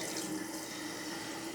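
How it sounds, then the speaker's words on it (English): Water running steadily into a toilet tank after the supply is turned on during a fill valve replacement, a soft, even rushing flow heard alone at low level. "And as we turn the water on,"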